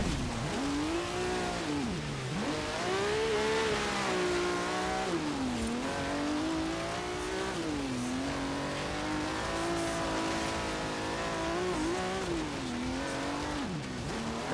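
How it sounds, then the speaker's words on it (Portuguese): A race car engine in Forza Horizon 3 revs hard and steadily during a race on a frozen lake, its loud, continuous tone rising and falling in pitch with each gear change. "Coitado do motor desse carro aqui"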